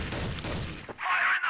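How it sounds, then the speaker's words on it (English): Rapid gunfire from a CrossFire (CFS) esports match on the Compound map, heard as dense, close bursts of shots that fill the first second and then give way to a brighter, hissing burst. "Gunshots are going to be fired down across middle"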